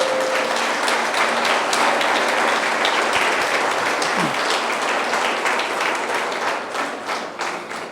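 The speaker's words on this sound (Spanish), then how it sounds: "Dale un fuerte aplauso a Dios." A church congregation claps loudly for God at the close of a Spanish-language sermon. The dense, sustained applause fills the space for several seconds before thinning and tapering off toward the end.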